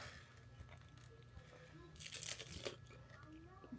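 A crunchy taco shell cracks under a bite, a short burst of crisp crunching and crinkling close to the microphone against a faint background hum.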